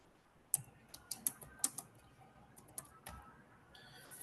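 Keys on a computer keyboard are tapped in a quick irregular burst of crisp clicks, close and fairly quiet, with brief pauses between keystrokes.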